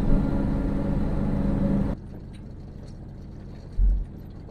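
A Ford Ranchero drives with a loud, steady engine and road rumble that suddenly cuts to a quieter idle-like hum, followed by a brief low thump.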